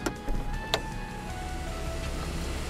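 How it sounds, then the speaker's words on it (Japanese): The electric sunroof motor of a Volvo car whirs steadily, faint and close inside the cabin, following a couple of brief clicks. "サンルーフのチェックをしてみましょう。"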